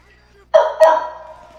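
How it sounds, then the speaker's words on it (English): A dog in GTA barks twice in quick succession, loud and close, with the second bark trailing off. "There's a dog in here."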